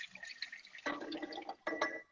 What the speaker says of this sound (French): je vais mettre de l'eau dedans, effectivement, comme ça, et je vais la mettre à bouillir